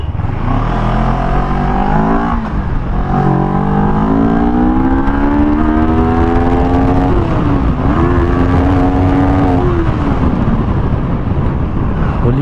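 A CFMOTO 400NK motorcycle engine revs up through the gears, its pitch rising and then dropping at each shift, loud and continuous at close range with a steady roar and no voices.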